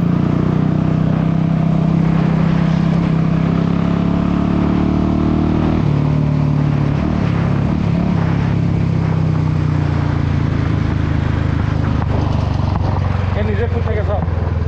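A modified Royal Enfield Bullet motorcycle engine thumps steadily up close, a loud continuous low rumble with slight shifts in pitch as it idles and pulls on an off-road track.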